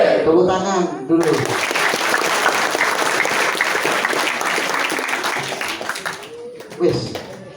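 A school crowd at a Ramadan talk breaks into loud, sustained applause that holds steady for several seconds, with a voice speaking briefly before it and again as it fades.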